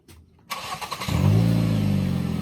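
A Ford Focus engine starts up close by: a half-second of cranking, then the motor catches and settles into a loud, steady running hum.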